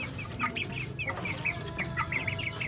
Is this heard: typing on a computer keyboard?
no